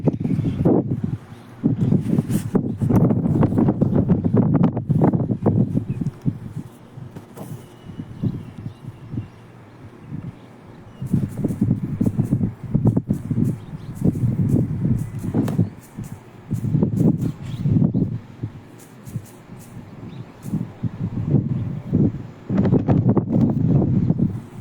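Gusty wind buffets the microphone outdoors where fishermen are sun-drying fish, coming in loud low rumbling bursts that rise and fall over the whole stretch, with no speech.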